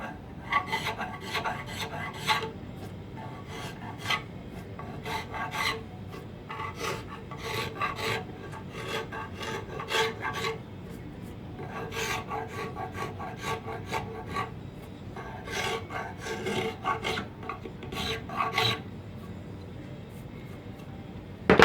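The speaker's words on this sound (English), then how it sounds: "Scraper again." Hand scraper rasping across curly wood while inletting a swamped gun barrel, a close series of short scraping strokes in bursts with brief pauses between them.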